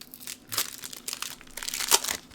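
A Pokemon Evolving Skies booster pack is torn open by hand, with crinkly foil crumpling and ripping in bursts, louder rips near the middle and end, close up and without talk.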